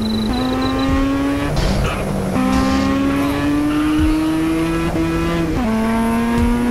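A race car in GTA San Andreas revs hard and climbs through gears, the engine whine rising and dropping at each shift, with brief tire squeals and skids, loud and continuous with no talk.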